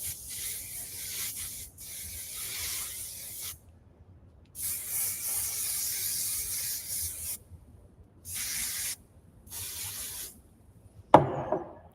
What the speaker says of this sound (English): Pull all my hair forward and give it a good spray for this bottom section.